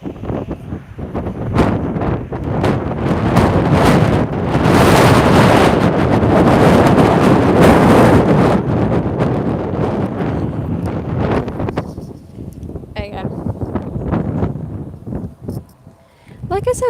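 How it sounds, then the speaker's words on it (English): Strong gusting wind buffets an outdoor microphone with loud, sustained low rumble across most of the stretch, easing briefly near the end; a person talks throughout underneath. "It's so windy out here."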